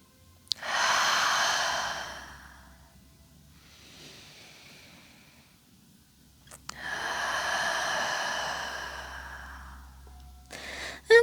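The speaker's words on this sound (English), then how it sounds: "And you can even exhale out through the mouth." Two long, breathy exhales out through the mouth during a warming yoga-style class, soft airy rushes each lasting a couple of seconds with a quiet pause between them.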